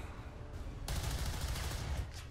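SMG gunfire in XCOM 2 with a zombie-infested city setting, heard as a sudden loud, dense burst of rapid shots that starts partway in and continues steadily to the end, with no talking.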